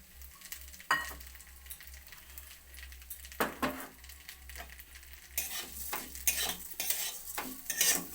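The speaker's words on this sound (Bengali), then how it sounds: "আবারও কড়াই বসিয়ে দিয়েছি ঘিয়ের মধ্যে সেমাইটাকে আমি ভেজে নেবো" Close, steady sizzling of vermicelli frying in ghee, with frequent scraping and clinking of a utensil stirring in the pan; no voices.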